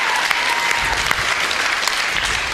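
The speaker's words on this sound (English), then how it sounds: "Round of applause for him, please." Audience applause at a live comedy show in a club, dense continuous clapping filling the room, loud and close for the whole stretch.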